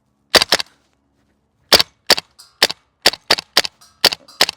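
Airsoft gun fired at a steel target: sharp, loud cracks, a quick pair, then after a pause a rapid uneven string of about eight shots, each a distinct snapping impact outdoors.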